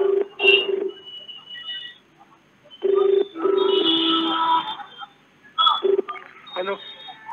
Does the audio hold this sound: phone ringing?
yes